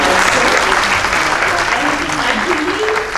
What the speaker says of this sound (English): I would want you all to please applaud Dharmi for his hard work